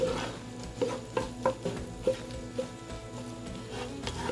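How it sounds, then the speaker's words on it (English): Vegetables for chicken soup stirred in a pan, with a run of light utensil scrapes and clatters at an uneven pace against a low background hum. No one speaks. "stir my veggies."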